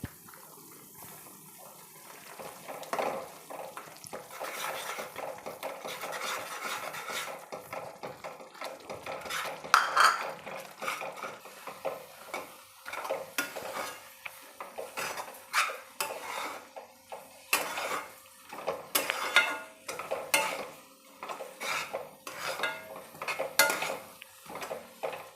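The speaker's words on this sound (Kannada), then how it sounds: "ಈ ರವೆನ ಹಾಕಿ ಮಿಕ್ಸ್ ಮಾಡ್ತೀನಿ." Semolina stirred into boiling water in a pan while making potato vade, with repeated metal spoon scrapes and clinks against the pan over a soft bubbling wash, close and busy.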